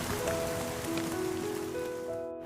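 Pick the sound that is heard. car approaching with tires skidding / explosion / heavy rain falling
heavy rain falling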